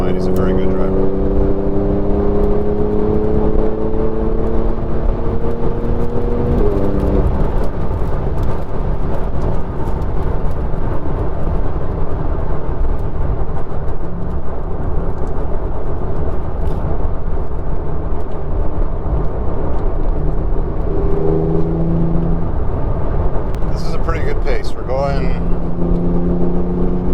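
A 2021 Porsche 911 Turbo S drives at speed on a three-day rally, its engine droning loud and continuous from inside the cabin with rising and falling tones as gears change, road and wind roar beneath, and a voice talking over it.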